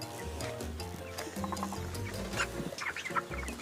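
Broiler chickens cluck and chatter inside a poultry farm shed holding about nine thousand birds, a dense overlapping crowd of calls at moderate level with scattered sharper squawks.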